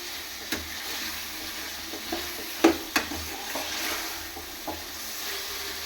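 Quiet, steady sizzling of chicken frying in a pan, with a few soft clicks and stirring scrapes and no talking.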